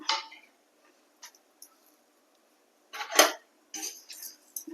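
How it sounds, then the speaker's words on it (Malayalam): Dry roasting of dal, coriander seeds and curry leaves in a pan without oil: faint, sparse scraping and clinking of stirring, with one brief louder scrape burst and a few short rattles near the end. "ഇതൊന്ന് നന്നായിട്ടൊന്ന് വറുത്തെടുക്കാം."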